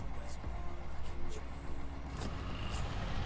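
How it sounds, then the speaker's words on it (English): A truck engine in the off-road driving game SnowRunner drones with a low rumbling hum, steady and fairly loud with occasional brief hissing bursts over it. "for what it is, it sounds like it's a truck."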